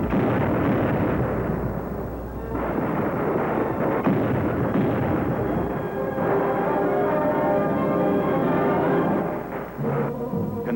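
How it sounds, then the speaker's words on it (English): Cannon artillery fire from a battle sound effect, a dense series of deep, rumbling booms and blasts rolling one into another, loud and continuous with a steady low roar underneath. "Then cannon shredded the Union brigades."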